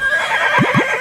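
Two quick, close neighs from a horse in the Horse Valley video game, rising sharply one after the other over a faint background hum.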